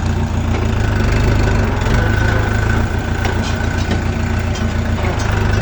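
A Chinese mini tractor's engine running steadily while the tractor drives in reverse, a loud continuous low diesel chug with rattling, close to the listener and without pauses.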